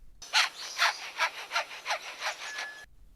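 A superb lyrebird mimics a hand saw: eight rhythmic rasping strokes, each a bright scratchy burst, evenly spaced and fairly close, with no other sounds.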